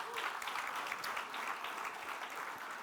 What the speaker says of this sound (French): C'est pourquoi, vous pouvez applaudir